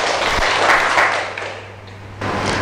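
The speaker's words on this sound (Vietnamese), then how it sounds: "Cả lớp chúng ta thưởng bạn Tây Nguyên một tràng pháo tay nào." Schoolchildren in a classroom give a classmate a round of applause, a dense burst of hand claps that fades toward the middle and swells briefly again at the end.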